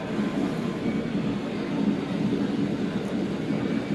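Model train running on a layout at a train show in Milwaukee, with CSX, Burlington Northern and BNSF locomotives: a steady low rumble and rolling hum, fairly faint and continuous, with no talking.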